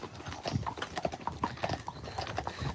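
Horses' hooves clip-clopping steadily on an outing, several unfit horses walking together in a busy, even rhythm, moderately near, with faint background noise.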